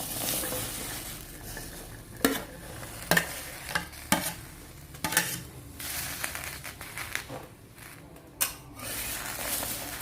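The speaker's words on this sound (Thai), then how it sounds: "เราก็จะนำพริกจินดามาคั่วก่อนนะคะ" About half a kilo of fresh red chinda chilies dry-roasting in a pan, tossed and scraped repeatedly with crisp rustling, papery crackles and intermittent loud clanks against the metal, close by.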